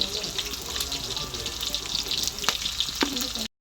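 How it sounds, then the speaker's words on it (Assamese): Onion paste frying in a pan until browned gives a continuous close sizzle with a few sharp clinks of a utensil, ending abruptly. "পেষ্টটো ব্ৰাউন নোহোৱালৈকে ভাজিব লাগিব"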